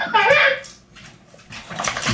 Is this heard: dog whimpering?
yes